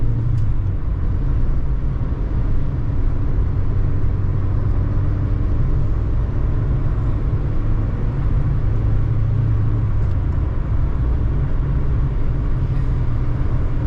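A 1993 Ford Escort LX with a 5-speed manual accelerates onto a freeway, giving a steady, loud low engine and road rumble from inside the cabin with no talking.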